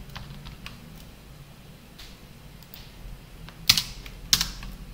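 Soft, quick clicks of a computer keyboard being typed on, then two sharper, louder keystrokes near the end like the Enter key being struck, with no talking over them.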